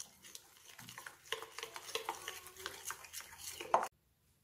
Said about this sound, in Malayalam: ഇനി നമുക്ക് ആവശ്യത്തിന് വെള്ളം ചേർത്ത് ഇതൊന്ന് മിക്സ് ചെയ്തെടുക്കണം